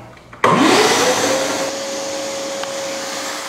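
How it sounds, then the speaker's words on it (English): A workshop vacuum switches on abruptly during wood router carving of a star design, its motor whining up to a loud, steady drone and holding there. "Earmuffs on, vacuum on."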